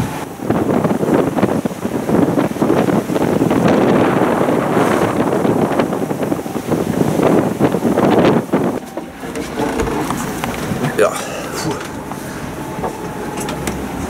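A sailboat making six to seven knots under sail on the Atlantic trade wind route, with strong rushing wind buffeting the microphone over wash and surf from the hull, easing after a while to a steadier hiss.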